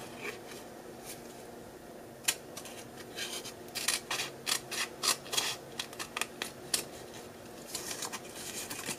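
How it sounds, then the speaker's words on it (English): Scissors snip through paper ephemera in a quiet craft studio, a run of short, crisp cuts coming in irregular bursts, close and fairly soft with no talking. "what did not cut out, I'm going to use my scissors."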